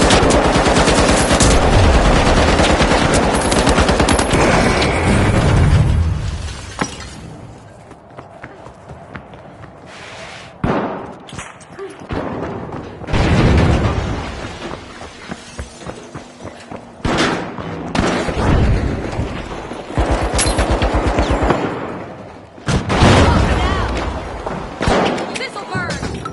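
Heavy gunfire and rocket explosions from the video game The Finals: loud sustained automatic bursts, deep booming blasts and thuds, repeated in waves with brief lulls, with a game voice calling out over the action.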